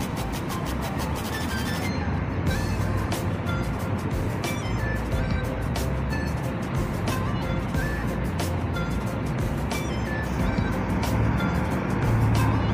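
Harapan Jaya intercity bus pulling away from the Tamanan bus terminal in Kediri, bound for Surabaya: a loud, continuous diesel engine rumble with busy terminal traffic noise throughout, no clear talk on top.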